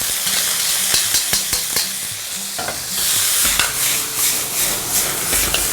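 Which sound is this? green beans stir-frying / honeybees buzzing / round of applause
green beans stir-frying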